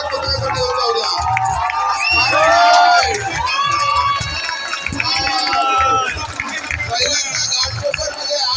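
A dense crowd at a Dahi Handi human-pyramid event in Ghatkopar cheers, whoops and shouts continuously for the Gurudatta team, loud and close, with excited children's voices and babble swelling throughout.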